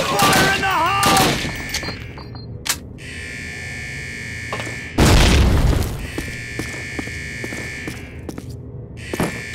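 A grenade explodes in the Call of Duty Sicily mission with a deep, loud boom midway through, while a high alarm-like tone drones on and off and an earlier voice calls out over the battle noise.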